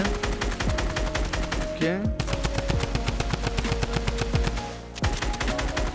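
Rapid gunfire from Fortnite rattles in dense, continuous bursts of sharp shots with brief pauses, loud and close, while a voice speaks briefly under it.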